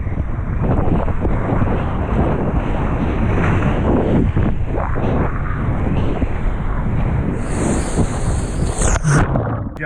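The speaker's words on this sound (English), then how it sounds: "told you there's good waves out here" Ocean surf off the coast of Washington washes and rumbles around a surfer, heavily blown by wind buffeting a GoPro microphone, loud and continuous, with no speech.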